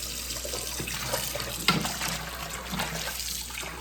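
Tap water runs steadily while oxtails are rinsed in a sink, a continuous close trickle and splash with a brief louder knock partway through.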